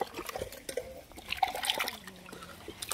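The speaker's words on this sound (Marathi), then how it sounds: "आता ते धुवून घेणार आहे माशी" Freshly cut singhara fish is rinsed in water, with faint, close splashing, trickling and dripping sounds coming in short irregular bursts.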